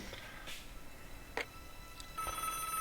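A telephone rings in the Broken Sword adventure game, a few short electronic ring bursts over a steady hiss, with no talking.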